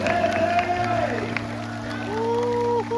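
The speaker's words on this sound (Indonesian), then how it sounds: "sekali lagi dong tepuk tangan yang meriah untuk spektakuler show legenda baru" An evening crowd at Saloka claps and cheers after a spectacular night show, a broad wash of applause mixed with music and a voice speaking over it.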